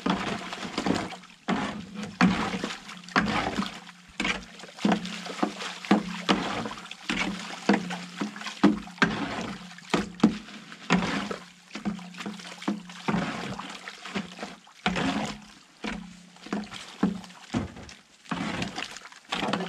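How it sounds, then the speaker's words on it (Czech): A bucket of lime goes into water for slaking during plastering work: steady splashing and sloshing with repeated dull knocks and thunks against the container, continuing for about twenty seconds, no talk. "Tak tam dá kýbl vápna."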